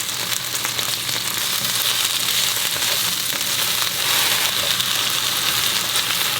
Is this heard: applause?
no